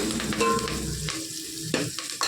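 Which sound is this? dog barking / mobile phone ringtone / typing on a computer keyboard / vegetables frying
vegetables frying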